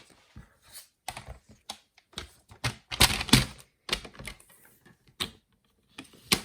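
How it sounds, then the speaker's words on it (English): A paper trimmer cuts card for a birthday card, producing a close run of irregular sharp clicks and short rasping slides with brief pauses in between. "So I'm just going to trim it to make it look the right size for the sentiment."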